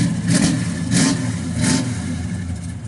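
A 1967 Chevrolet Chevelle SS 396 with a cam and Flowmaster exhaust revs repeatedly over a deep, throaty exhaust rumble, with three surging bursts rising above a steady low idle.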